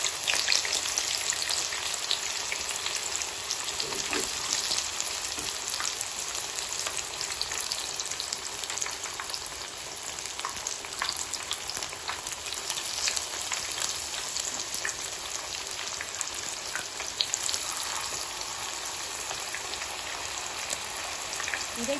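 Raw banana pieces fry in hot oil in a kadai for a banana fish fry, a dense, even, crackling sizzle that holds steady and close throughout with no talk.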